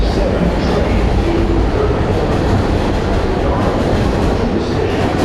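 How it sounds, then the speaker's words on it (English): Manhattan-bound 7 express subway train at Roosevelt Av–Jackson Heights station in New York City, its steady loud rumble and rail noise filling a busy platform. "There is a Manhattan-bound Express 7 train"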